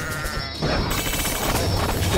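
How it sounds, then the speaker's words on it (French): Sheep bleating in the tower-defense video game Kingdom Rush, a short cartoonish bleat over busy game music and battle effects, fairly loud and close. "le mouton est passé"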